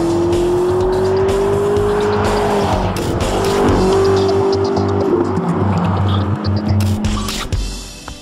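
A McLaren XP beta test car drives hard at the IDIADA proving ground, a loud close engine note rising and settling through gears, with tyre squeal and skidding before it fades away at the end.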